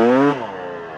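A Yamaha WR250 two-stroke trail motorcycle engine buzzes close and loud, with a strong harmonic whine that climbs briefly, then drops off to a lower, softer drone within about a second, with no talking.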